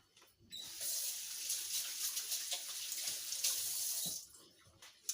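Tap water running steadily into a sink while mackerel patties are being made by hand, a continuous hiss lasting several seconds before cutting off, fairly close and alone.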